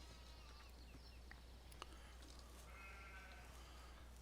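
Sheep bleat in Farming Simulator 17, several short bleats over a steady low hum of game ambience, moderately near and without speech.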